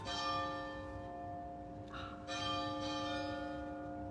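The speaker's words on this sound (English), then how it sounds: "The bell." A church bell rings with a sustained, resonant tone, its hum lingering steadily with a brief dip before sounding again.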